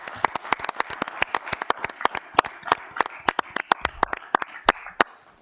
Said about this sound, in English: A round of applause for our fine sheriff's office.